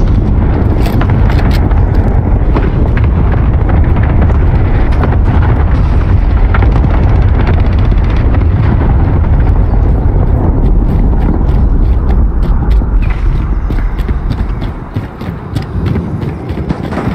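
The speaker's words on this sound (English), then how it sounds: "Cluster strike inbound." Cluster strike explosions in a Call of Duty video game form a loud, dense, continuous barrage of booms and rumbling that thins out near the end.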